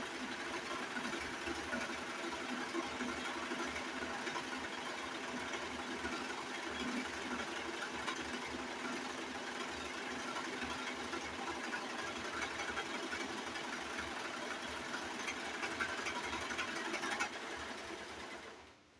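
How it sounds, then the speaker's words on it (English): A serger runs continuously while stitching fabric for headwraps, a close, even mechanical whir with a rapid needle rhythm that keeps going for about seventeen seconds before winding down. "But we're going to sew down the short side again."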